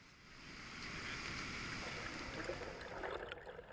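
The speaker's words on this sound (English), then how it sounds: "the head gate was cranked back open to get water flowing again through the ladder" Water rushes steadily through a fish ladder after its head gate has been cranked back open at a salmonid monitoring trap, a continuous broadband flow sounding fairly close and moderately loud with no talk.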